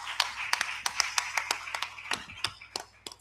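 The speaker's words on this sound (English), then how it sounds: "can we give her a round of applause?" A small audience at an African women in housing and construction event gives a brief round of applause, sparse individual claps sounding at close range in an irregular patter.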